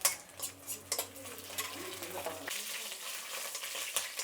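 Sun-dried vadiyam fritters fry in hot oil, a moderate crackling sizzle broken by repeated scrapes and taps of a stirring spoon against the pan, softer and steadier in the second half.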